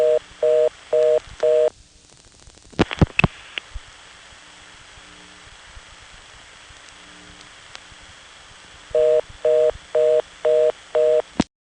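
A 1978–1980 Greenville, North Carolina coin phone times out on a 4E switch into a reorder tone: fast, evenly pulsed beeps at the start, a stretch of line hiss and clicks, then the rapid on-off beeping returns near the end.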